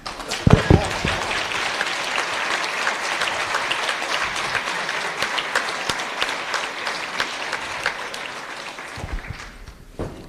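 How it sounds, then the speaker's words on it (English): A conference audience applauds in a steady, dense wash of clapping that runs for about nine seconds with few gaps, then tapers off near the end, with a few louder claps at the start. "deserve a round of applause"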